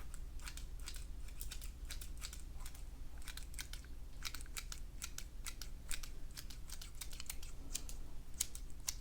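Scissors trim hair in a quiet salon-style setting: a close, crisp series of snips in irregular bursts over a low steady background, with no talking.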